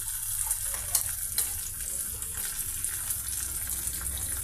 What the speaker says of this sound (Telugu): ఈ విధంగా పీసెస్ ఫ్రై అయ్యాయండి